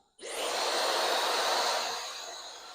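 A hair dryer drying a stock hair system after adhesive prep, switching on abruptly and blowing as a steady, loud broadband whoosh that fades slightly toward the end, with no talking.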